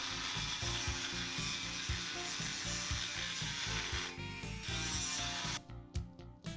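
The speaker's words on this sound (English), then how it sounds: "Using a Dremel tool fitted with a 3/32 to 1/8 inch diameter carbide bit, grind a radius into one of the jaws of your vise." A Dremel rotary tool with a small carbide bit grinds a radius into a metal vise jaw, giving a loud, steady high-pitched whine with rhythmic pulsing as the bit works, then cutting off near the end.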